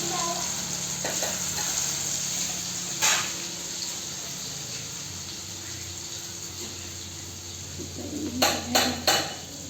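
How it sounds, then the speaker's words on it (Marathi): Ginger-garlic paste hits hot oil already crackling with mustard seeds on a wood-fired clay stove, a loud steady sizzle and spit with a metal clank early on and a few sharp utensil knocks near the end. "आता आलं लसूणची पेस्ट फोडणीचा आवाज येतो"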